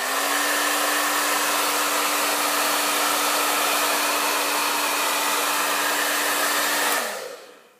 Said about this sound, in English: then I had a hair dryer